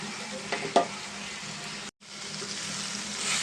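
Potato pieces being stirred with chilli powder, coriander powder and cumin powder in a pan, a soft scraping and gentle sizzle with a couple of louder clinks near the start and a brief gap midway.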